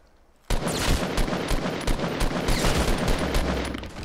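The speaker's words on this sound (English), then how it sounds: "Getting shot at." Sustained rapid gunfire in the video game Fortnite Battle Royale, bursting in abruptly and continuing loud and dense, like fast automatic shots.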